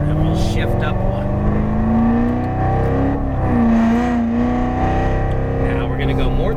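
Corvette C7 engine on a race track, a steady rising drone as the car smoothly accelerates and climbs through the gears, loud and continuous, with a voice talking over it throughout.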